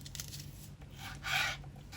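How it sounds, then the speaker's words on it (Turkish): A knife slices through a capia pepper on a cutting board, giving a faint scrape followed by one brief, louder rasping cut, with no talking. "Şeritler halinde önce keselim sonra doğrayalım."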